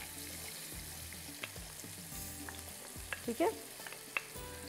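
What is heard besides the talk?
onion frying in hot butter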